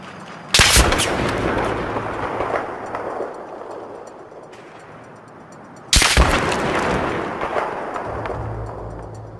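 Two loud, close gunshot blasts in the video game Battlefield 3, each followed by a long rumbling decay, with a pause of about five seconds between them.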